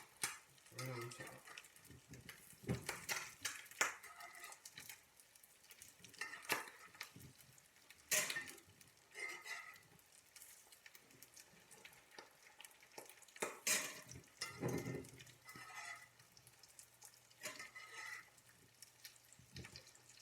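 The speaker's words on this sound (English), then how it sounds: "let's baste the egg" An egg basted with bacon grease and ghee fries in a pan, a steady low sizzle and bubbling with scattered pops and spoon scrapes, moderately close and with no talking.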